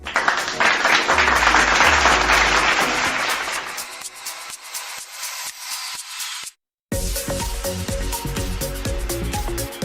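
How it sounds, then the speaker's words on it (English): Virtual round of applause at an LPU Davao 2021 tribute ceremony: loud, dense clapping that thins and fades over several seconds, then a brief dropout before tonal sound resumes. "Let's give them a virtual round of applause."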